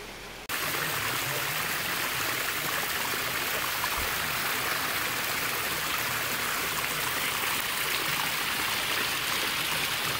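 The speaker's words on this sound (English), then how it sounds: "it's a smaller fall compared to the other one" A small waterfall at Saunders Springs, a constant rushing wash of falling water, even and unbroken, close and fairly loud, with no voices.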